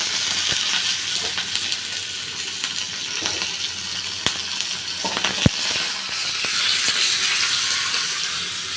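Turmeric, curry leaves and green chilies frying in hot oil for lemon rice, a steady close sizzle and hiss running throughout with a few sharp pops and spatters, no talking.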